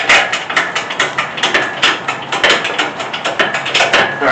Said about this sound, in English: So let's see if I can jack this up enough.